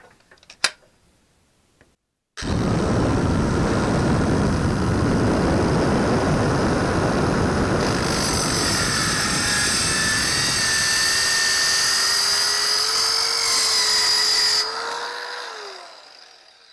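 Teccpo mini circular saw fitted with a metal blade cutting through thin sheet metal, starting with a few clicks and then a loud, steady whining buzz for about twelve seconds before spinning down.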